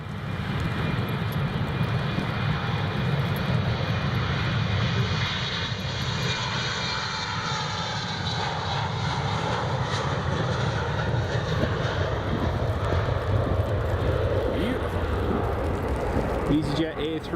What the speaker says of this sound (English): we've got a United 757 about to depart